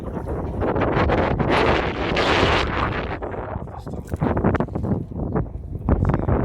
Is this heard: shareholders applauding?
no